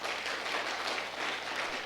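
An audience at a county lecture-hall academy gives a steady burst of applause, dense clapping throughout at moderate loudness with no talk.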